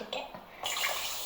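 Water poured in a steady splashing stream into a pot of beans for cooking, growing louder and fuller partway through, close by with no talk.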